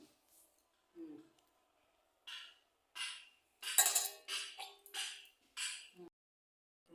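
Knife chopping banana stem (thor) on a board in a home kitchen, a series of short crisp cuts in uneven bursts, close and moderately loud, with a few quiet pauses between.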